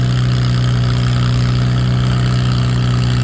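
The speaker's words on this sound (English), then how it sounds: "This tractor usually pulls nice and strong." An Oliver antique tractor working at a tractor pull in Mt. Carroll, Illinois, makes a loud, steady, deep engine drone with strong low harmonics that holds unbroken throughout, with no voices over it.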